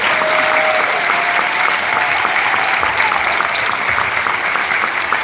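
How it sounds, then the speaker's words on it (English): A large audience applauds the panelists after a discussion, loud dense clapping sustained evenly throughout with a faint crowd murmur underneath. "Let's give a big round of applause to our panelists."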